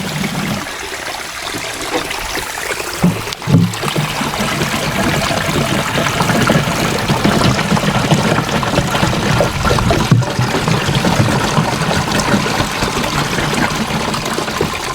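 Mountain spring water being fetched and poured, a loud continuous splashing and trickling rush lasting throughout, with a few faint knocks and no speech.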